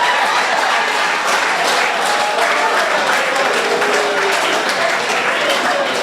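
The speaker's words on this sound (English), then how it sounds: "I want you all to give Baba a round of applause." An audience claps for a man called Baba at a Discussions for Prosperity gathering with the Deputy Prime Minister: dense, even applause filling the room for the whole stretch, loud and unbroken.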